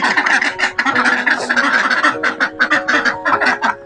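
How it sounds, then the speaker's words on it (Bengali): A group of village ducks quacks loudly and close by in a rapid, overlapping chorus of calls with only brief pauses. "কত হাঁস করছে দেখুন আহা সুন্দর আওয়াজ"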